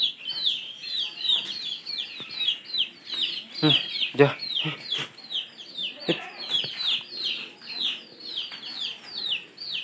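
Pigeons call repeatedly at a rooftop loft while being fed maize, their bubbling coos and clucks close and continuous, with someone speaking briefly among the birds.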